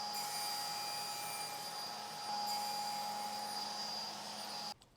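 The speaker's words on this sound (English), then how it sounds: "Now we're gonna cut them to length, so I'm gonna switch to a higher tooth count blade so it's cleaner." A circular saw fitted with a higher tooth count blade cuts boards to length, giving a steady loud whine that holds for several seconds and stops abruptly near the end, with no talking.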